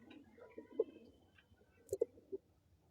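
Mangalagiri pigeons in a loft give a few soft, low coos at close range, including a short double burst near the middle, quiet against a faint background hum.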